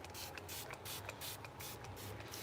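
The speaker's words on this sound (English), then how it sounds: "Lightly spritz with water. Definitely just a mist." A spray bottle misting water onto afro locs, a quick series of about eight soft, airy spritzes in a fairly even rhythm, close up and alone.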